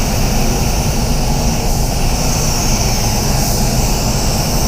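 DeVilbiss DV1 spray gun spraying clear coat, a constant loud hiss of compressed air and atomized paint, close and unbroken for the whole stretch.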